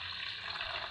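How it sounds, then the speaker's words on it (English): Water poured steadily into a pot while making chapati, a short continuous hissing splash, moderately close and alone. "So I pour the water here."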